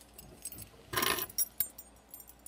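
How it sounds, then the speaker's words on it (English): Keys for an old Chevy truck jangle on a paracord keychain, with a brief close metallic rattle and a few smaller clinks after it, fairly quiet. "Got some keys right here to my old Chevy truck."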